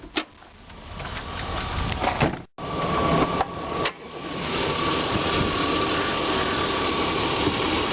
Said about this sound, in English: it's got the 6-liter Vortec V8 engine